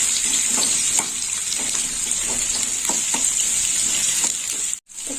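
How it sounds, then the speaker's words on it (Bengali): Potatoes frying in oil give a constant close sizzle with occasional soft stirring knocks and scrapes, then a brief drop to near silence just before the end. "আলুগুলো একটু ভাজা হোক।"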